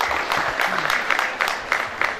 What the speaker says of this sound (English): So a bigger round of applause for all of you together.